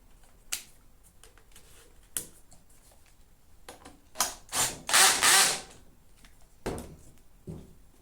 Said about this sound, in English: Tighten with the Allen key.